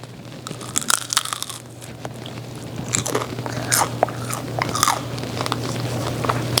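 Close bites into a crunchy fried cream cheese egg roll, a series of crisp crunches and chewing sounds repeating over several seconds against a steady low hum.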